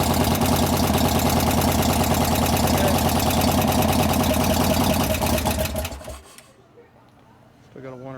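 A 1988 Harley-Davidson FXR engine idles loud and close with a steady ticking clatter from noisy lifters, then cuts off abruptly about six seconds in, leaving quiet with faint background sound.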